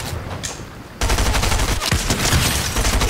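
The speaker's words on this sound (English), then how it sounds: "Dude, I shot him in the kneecaps twice" Rapid bursts of gunfire in a close-range sniping video game, starting after a quieter opening second and continuing dense and loud to the end with no talk.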